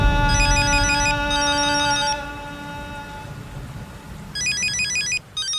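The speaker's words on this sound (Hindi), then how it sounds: "उसी का फोन आ गया।" A mobile phone rings with an incoming call, a bright repeating electronic ringtone melody in bursts, fairly close and clear, with a steady background hum beneath.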